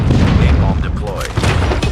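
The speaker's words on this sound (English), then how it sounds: "Napalm deployed." Napalm airstrike explosions in Call of Duty Mobile during a 10v10 Domination match on the Shipment 1944 map, a continuous loud rumbling boom with crackling bursts and gunfire layered over it, alongside announcer voice lines.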